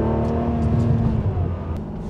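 A Ferrari with a 5.7-litre V12 engine runs with a loud, steady, smooth low hum heard from inside the car, with a few faint clicks over the drone.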